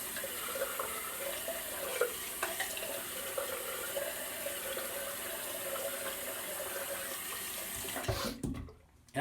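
Tap water running steadily into a sink while a razor and face are rinsed after shaving with sandalwood cream, a soft continuous splash with occasional clinks, cutting off near the end.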